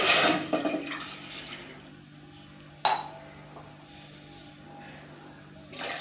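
Water splashes into a pan in a short pour at the start while making semiya payasam, followed by a quieter stretch with a brief clink partway through.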